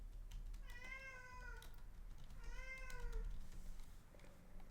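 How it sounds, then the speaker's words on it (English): A house cat wanting to go outside lets out two distinct, fairly faint meows a second or so apart over a low background hum, with light keyboard-like tapping nearby. "The cat really wants to go outside."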